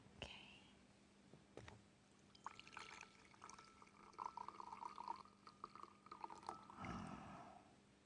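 Coffee pouring into a big cup, a soft liquid trickle running for several seconds, fairly quiet, with light clinks around it.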